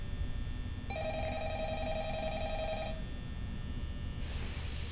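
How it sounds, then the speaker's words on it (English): An electronic telephone ring in the video game Five Nights at Freddy's trills for about two seconds over a low droning background, followed by a brief burst of hiss. "The phone's ringing."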